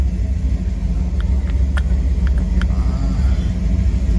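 A 1934 Ford street rod engine idles with a close, steady low rumble, a few faint clicks ticking over the deep throb.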